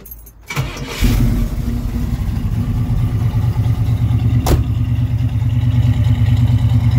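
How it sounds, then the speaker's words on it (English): A 1967 Pontiac Firebird convertible's small-block V8 with 2.5-inch exhaust cranks briefly and fires, then settles into a loud, throaty, slightly lumpy idle close by, with no voices. "I'm gonna fire this baby up, let you hear it."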